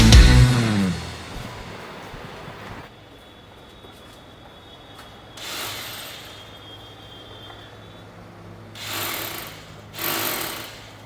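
A power drill bores into a wall to fix a stand for an air conditioner unit. It comes as a loud whirring burst at the start, then several shorter bursts later, separated by quiet background hum.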